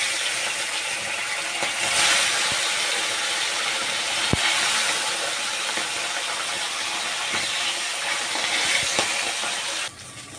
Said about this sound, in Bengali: তেল আমার গরম হয়ে গেছে। এখন এক এক আমি মাছগুলোকে দিয়ে দেবো।